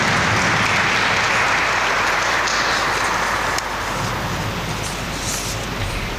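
Congregation applause for a sister at a Catholic solemn profession ceremony, a dense, steady wash of clapping that holds loud throughout and dips slightly partway through, with no talk over it.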